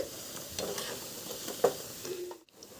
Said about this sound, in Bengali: বেসনের যে ব্যাটারটি আছে সেটার মধ্যে ছোট ছোট করে বড়ার আকারে ভেজে নেব